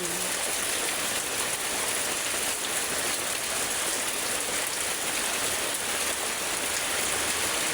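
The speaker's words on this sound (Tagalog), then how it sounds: "Lumalakas na naman ang ulan." Steady heavy rain pours down in a dense, unbroken hiss on surfaces close by, holding loud and constant throughout with no voices.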